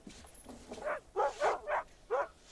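A hunting dog in a snowy wilderness gives a series of short, close barks and yips in a loose rhythm, four or five distinct calls against quiet background hiss.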